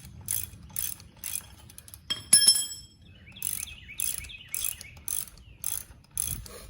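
A ratchet with a 17 mm socket loosens a bolt during a Yamaha YZ125 motocross bike fork rebuild, giving repeated short bursts of clicking, followed by a bright metallic clink and a faint whirring ratchet run.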